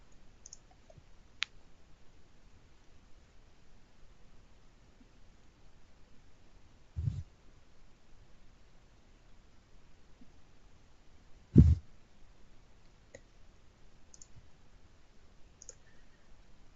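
A computer mouse gives a few sharp, isolated clicks, spaced seconds apart against near silence, while saving lease payment data in accounting software.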